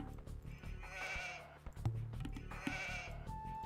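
Sheep in Age of Empires II bleat twice in quick succession, wavering cries over game music and clicks, moderately loud in a busy mix.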